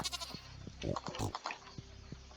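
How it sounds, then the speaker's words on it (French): Goats bleat in the Stardew Valley farming game, several short, close calls spaced irregularly over a quiet background, with a speaker talking briefly at the start. "Ok, alors toutes les chèvres sont adultes."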